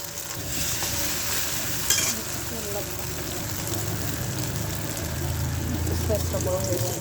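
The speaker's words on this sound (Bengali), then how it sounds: "তো একটা ডিম ভাজা হয়ে গেছে, আরেকটাও ভেজে নেব।" An egg frying in a pan gives a continuous close sizzling hiss with a brief clatter early on, a low hum underneath and faint traces of a voice in the background.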